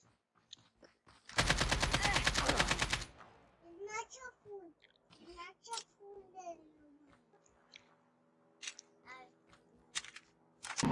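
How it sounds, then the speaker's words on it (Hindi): A long burst of automatic gunfire rattles loudly in a Call of Duty Mobile battle royale match, followed by sporadic shots and clicks while young players chatter in Hindi over the game audio. "पीछे गोली चला रहा है कोई।"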